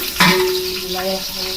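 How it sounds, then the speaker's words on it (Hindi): Hot water goes into a pot of degi haleem after green chillies have fried until pale, with a sharp splash and then a steady sizzle and bubbling hiss that carries on alone with no talk. "अब इसमें हम डाल देंगे गर्म पानी"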